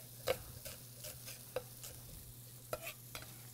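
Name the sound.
diced onion going into a hot pan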